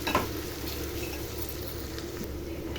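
Ginger paste fries in a pan while being stirred, giving a steady close sizzle with faint scraping all the way through and no voices.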